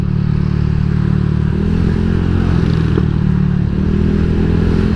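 Honda Vario 150 eSP scooter engine fitted with BRT carbon valves, running steadily near the mic with a low, continuous drone and only light throttle, never revved hard.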